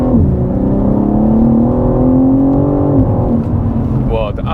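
A BMW G80 M3 Competition's engine drones and climbs steadily under load, then drops sharply in pitch at a paddle-shift upshift in M2 mode, heard from inside the cabin.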